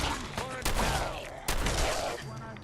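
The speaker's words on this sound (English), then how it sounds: "I feel like we actually save more ammo if I just use the shotgun." Shotgun gunfire in the video game Fallout 4, heavy booming blasts layered with game noise and some talking over it.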